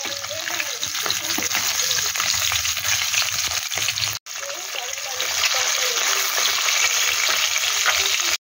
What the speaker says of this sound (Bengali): মৃগেল মাছ ভাজবো হাজব্যান্ডের জন্য